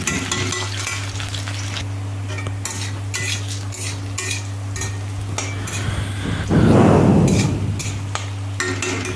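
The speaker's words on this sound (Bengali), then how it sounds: "তারপর আস্তে আস্তে আলুগুলোকে ভেজে নিচ্ছি।" Thinly cut potatoes fry in hot oil tempered with dried red chilli, with a continuous close sizzle, repeated metal spatula scrapes and clinks, and a louder surge of frying near the end over a steady hum.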